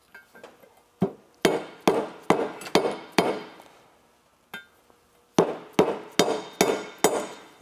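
Seal being tapped into a Mega Elan RKTek 925cc big-bore sled engine during a build, seal coated in blue Loctite: a series of sharp, close hammer-like knocks, a group of five, a pause, then another quick run of six.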